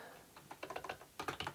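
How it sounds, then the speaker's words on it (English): Typing on an RK400 LED gaming keyboard, a budget RGB model: close, crisp keystrokes in a quick run, a short pause, then another fast burst of clacks. "if I type in this, a bit on the keyboard, this is great"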